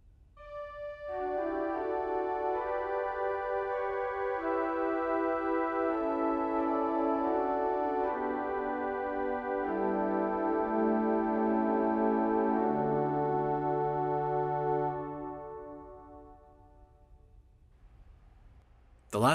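Virtual pipe organ sample set sounding Dutch string stops, a sustained chordal passage with shifting held notes and a bright, shimmering harmonic edge, played alone for about fifteen seconds before fading into a short release.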